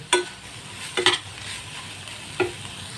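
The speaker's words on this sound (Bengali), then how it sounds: "এবার চিকেনটার সাথে ভালো করে মিক্স করে এটা নামিয়ে নেব।" Chicken filling for chicken rolls is stirred in a frying pan: three short, scraping stirs of a utensil against the pan over a quiet, continuous sizzle, close by with no talking.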